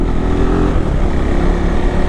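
A KTM 390 motorcycle engine drones loud and close under throttle, a rough steady rumble that does not rise much in pitch, as if the acceleration is lagging.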